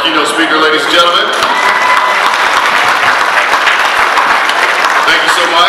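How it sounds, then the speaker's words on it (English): Audience applause at an annual dinner event, a steady, dense wash of many hands clapping that holds loud and even throughout, with some cheering mixed in. "Another round of applause for our keynote speaker"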